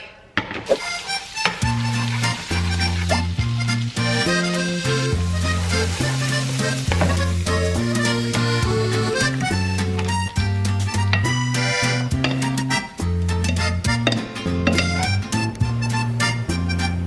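Shrimp fry in butter and garlic with a continuous, bright sizzle close to the pan, partly buried under steady music with a thumping bass line playing throughout.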